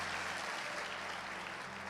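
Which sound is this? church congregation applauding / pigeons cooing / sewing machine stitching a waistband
church congregation applauding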